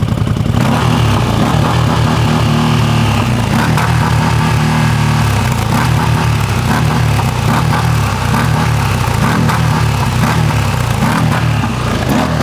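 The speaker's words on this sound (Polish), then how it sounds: "wydech jest bardziej basowy" A side-by-side UTV engine revs and roars continuously with a deep, bassy exhaust note, close up, rising and falling in pulses with no talking.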